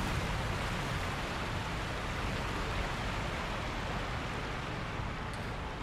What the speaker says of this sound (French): Le bruit de la cascade rugissante est assourdissant.